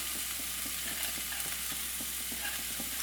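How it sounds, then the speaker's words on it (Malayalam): Finely chopped onion frying in a hot pan gives a soft, continuous sizzle with faint stirring clicks, heard alone and fairly quiet. "ഒരു സവാള ഇതുപോലെ നല്ല ചെറുതായിട്ട് മുറിച്ചെടുത്തതാണ്. അത് മുഴുവനായിട്ട് ഇതിലേക്ക് ഇട്ട് കൊടുക്കാം."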